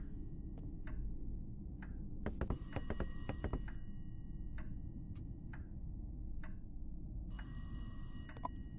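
A telephone rings intermittently in the horror video game Locked Up, with bursts of bright electronic bell trills over a steady low ambient drone and scattered ticking clicks.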